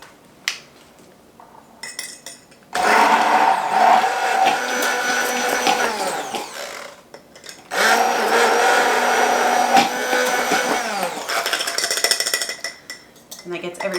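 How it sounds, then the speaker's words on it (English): A hand blender whirs in a jar of mayonnaise ingredients in two loud, sustained bursts separated by a short pause, with faint kitchen clinks around them. "I go ahead and mix this up in the jar with my hand blender"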